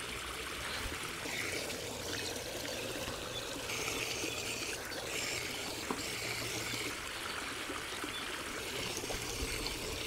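A small pond pump aerator for koi fish gives a steady, soft trickle and splash of water that runs on without pause, with a low motor hum underneath.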